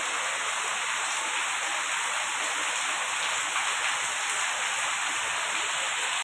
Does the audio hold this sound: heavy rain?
yes